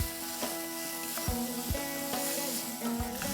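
Marinated mutton sautéing on a high flame for a Bengali-style Dak Bangla curry, with a steady sizzle broken by regular scraping and knocking strokes as the meat is stirred in the pan.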